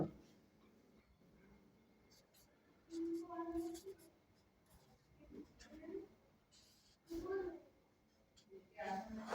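An equation being written by hand for a class 10 maths problem, soft scratching pen or chalk strokes in short bursts, with a voice speaking between them.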